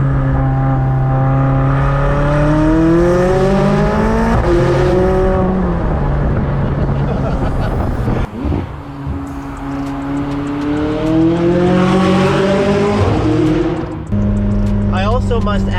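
A McLaren 600LT supercar accelerates hard, its engine climbing through gears in rising sweeps with a brief drop between shifts, loud and close from inside the cabin with the exhaust up near the hood.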